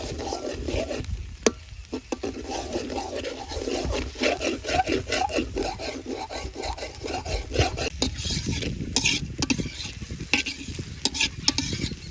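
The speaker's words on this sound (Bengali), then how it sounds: "ডিম ভেজেছি।" An egg fries in oil in a wok, with a continuous sizzle broken by frequent scraping and stirring clicks from a utensil against the pan, heard up close and without talk.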